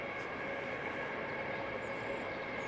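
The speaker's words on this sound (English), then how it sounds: "Just another train thunders past." A train rumbling past near a fishing spot, a steady continuous drone that stays loud and close throughout, with no talk over it.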